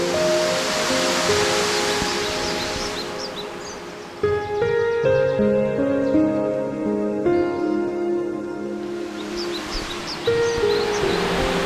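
Blue-tinged limestone cascades of the Krushuna waterfalls near Lovech, Bulgaria, rush steadily as a broad, continuous roar, with tonal sounds and faint chirps layered over the water noise throughout.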